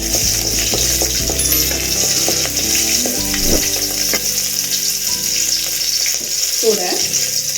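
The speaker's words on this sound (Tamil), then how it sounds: "கூட வெங்காயம், கொஞ்ச நேரம் வதக்கிக்கலாம்." Green chillies and onion sautéing in oil in a pan, a loud, constant sizzle with repeated stirring scrapes and clinks throughout.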